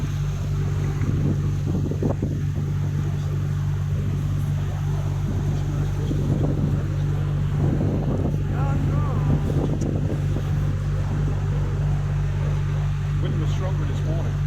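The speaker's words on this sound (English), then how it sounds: "Wind was stronger this morning." Strong wind buffets the microphone during a canal boat tour in Bruges, Belgium, a constant loud low rumble blended with the boat's engine drone, while people talk over it throughout.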